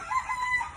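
A gray gamefowl rooster crowing in a backyard farm, a single short, clear crow at moderate distance with a bright, wavering tone, alone and with no talk over it.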